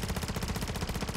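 Rapid automatic gunfire fired at a boss's vulnerable sides in Modern Warfare 3 Zombies, a fast, even string of shots pulsing steadily and loudly, alone without talk.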